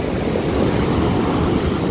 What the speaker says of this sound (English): Look at the waves pumping into it.